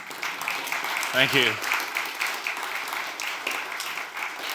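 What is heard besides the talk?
audience applause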